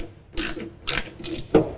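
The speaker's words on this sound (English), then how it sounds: "we're gonna take the last two nuts that came in our kit, and we are just going to get those put on and tighten those up" A hand ratchet tightens the nuts of a mulch control kit on a John Deere Z320R zero-turn mower, giving three or four short bursts of quick clicking at close range.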